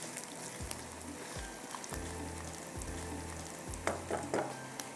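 Rice and black peppercorns fry in a pan with a soft, steady crackle and sizzle, a few stirring scrapes near the end, and a low rhythmic thumping hum underneath, fairly quiet and close.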